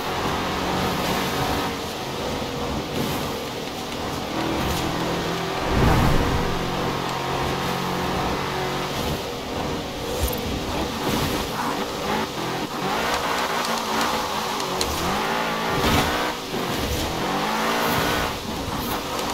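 A car in Forza Horizon 4 accelerating hard with wheelspin, loud continuous engine roar and tire squeal that rises and falls over nearly twenty seconds without speech.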